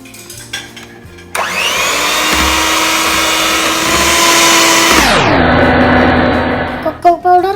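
A mixer whirs steadily for about four seconds while cream and cocoa powder are mixed for a biscuit pudding, its pitch dropping as it slows, with soft clicks before and after.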